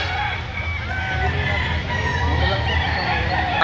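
Roosters crowing and hens clucking at a Saturday chicken market in Lipa City, Batangas, the calls overlapping continuously over a dense background of crowd babble and nearby voices.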